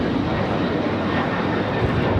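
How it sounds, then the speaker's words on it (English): A Delta Airlines Boeing 737-900ER takes off at Los Angeles International Airport, its engines giving a loud, steady broadband roar that holds unbroken throughout. "Delta Airlines 615 taking off to Cancun on the 737-900ER"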